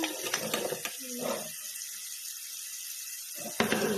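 Water runs from a tap into a sink in a kitchen where a crab is being prepared, a steady splashing flow that cuts off sharply and then resumes, with no talk over it.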